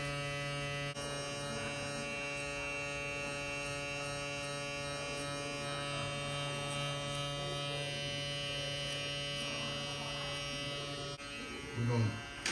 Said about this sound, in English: We're going to use the corner of our blades.